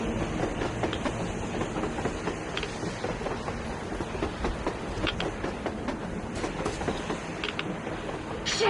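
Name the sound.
train passing on the surface, from the video game Metro Exodus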